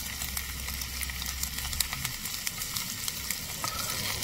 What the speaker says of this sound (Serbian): Frckaju hrenovke, frckaju, malo se brčkaju u ulju.